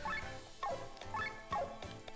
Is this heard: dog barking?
yes